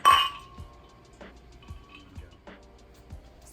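Glasses clink together in a toast: one bright ring at the start, then lighter taps and faint chimes trailing off over a few seconds, close by in a quiet kitchen.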